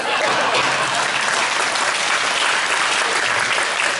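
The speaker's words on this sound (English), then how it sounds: "give these guys a round of applause" Loud, sustained applause from the audience at a county candidate forum, a dense even clapping crowd thanking the candidates, with possible faint voices mixed underneath.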